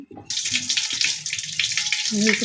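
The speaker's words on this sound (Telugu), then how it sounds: "పప్పుని రైస్ని కడుగుతున్నాను. 2 సార్లు బాగా వాష్ చేసుకొని నీళ్ళు పారబోసుకొని" Lentils and rice being washed with running water in a kitchen: a close, steady rush of water that starts abruptly and continues throughout, with a brief voice near the end.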